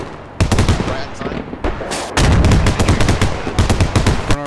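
Gunfire in a military video game, aimed at a BMP armored vehicle: loud bursts of rapid automatic shots and single cracks, close and dense, with a short lull before a heavier sustained volley.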